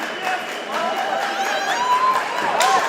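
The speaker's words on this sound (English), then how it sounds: "Crowd getting into it here in Jordan" A crowd at a BRAVE 10 MMA main event in Jordan cheers and murmurs in the distance, a steady roar rising slightly, while a commentator talks over it.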